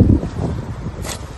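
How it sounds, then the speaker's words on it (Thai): Strong wind gusting outdoors in a garden where trees are being cut, buffeting the microphone with a low rumble and a brief rustling surge near the end. "เสียงลมพี่น้องลมแรงมากเลย"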